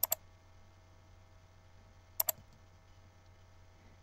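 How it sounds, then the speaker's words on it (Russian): Sharp, quiet left-button computer mouse clicks in quick pairs, spaced a couple of seconds apart against near silence, with another click at the very end. "Вы слышите щелчок."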